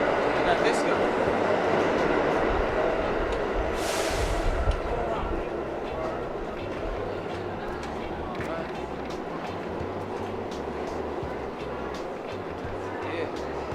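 A New York subway train rumbles in a Manhattan station near the World Trade Center, a steady low roar with faint rhythmic clatter and a brief hiss of air, moderately loud and continuous with background voices.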